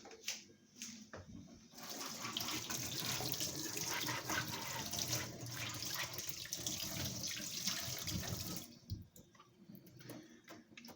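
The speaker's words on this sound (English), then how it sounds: "I am about to strain my juice now." Homemade ginger juice pours through a kitchen strainer, giving a steady, fairly loud liquid splashing and trickling that runs for about seven seconds. Quieter handling noises come before and after it.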